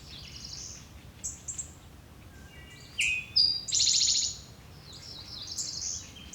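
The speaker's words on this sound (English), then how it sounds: "here we got another Cerulean Warbler" A Cerulean Warbler sings on the Blue Ridge, giving short buzzy high phrases and a rising trill, with other faint chirps around it. The song is moderately loud and clear, set against a quiet outdoor background.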